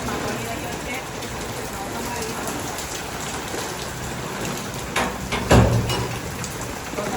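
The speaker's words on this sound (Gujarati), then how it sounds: "અમારે ત્યાં તો બહુ બધો વરસાદ છે" Heavy rain pours down steadily at a village home during an unseasonal summer downpour, with a louder thump or two near the end.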